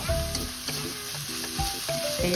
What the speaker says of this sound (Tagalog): halo lang ng halo, hindi tayo mapapagod sa paghahalo